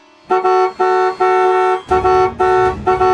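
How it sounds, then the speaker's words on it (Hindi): A car horn blares loudly in a series of long and short honks, repeated insistently and close by. "हॉर्न बजाना"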